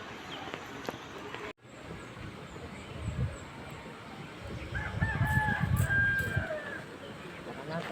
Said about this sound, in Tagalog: Lalaking manok na.